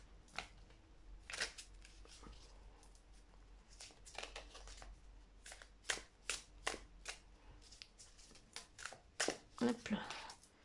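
A deck of tarot cards is shuffled by hand, giving quiet, irregular riffles and soft slapping flicks that grow busier toward the end.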